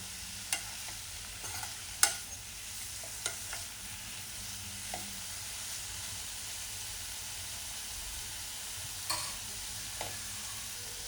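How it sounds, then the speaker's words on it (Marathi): A spoon scrapes and clacks in a pan while snake gourd curry with dried fish and spices fries, a quiet continuous sizzle broken by scattered sharp stirring knocks. "आता आपल्याला थोडं व्यवस्थित मिक्स करून घ्यायचं जेणेकरून मसाले सगळे व्यवस्थित लागले पाहिजेत"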